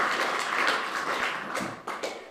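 A conference audience at a gun and gang violence event gives a brief round of dense, soft applause, a steady patter of many hands that thins out near the end.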